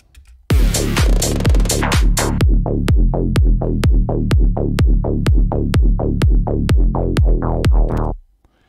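Tech house low end: a plucked, pitched bass locked with a punchy kick, pulsing in a steady fast rhythm, loud and close with no voices, stopping abruptly at the end.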